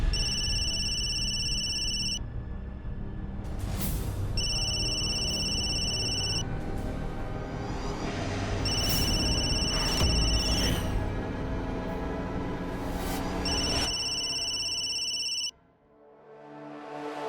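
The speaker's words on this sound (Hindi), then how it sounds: "ये किसका फोन है?" Electronic telephone ringtone chirping in repeated bursts, loud and close, over a dense dramatic music bed in a Hindi TV serial scene, the rings stopping near the end.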